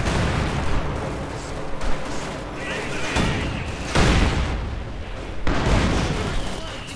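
Mortar fire in the World War II strategy game Company of Heroes 2 comes as dull booming thumps and blasts at irregular intervals over a dense rumbling battle din, loud, with voices talking over it.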